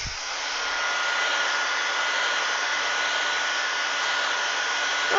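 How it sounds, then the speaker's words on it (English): A hot air blower aimed at a beaded, colored end-grain wooden vase, a loud, steady close whoosh that starts and then holds evenly throughout, with no talk. "now let's blow a little bit of hot air"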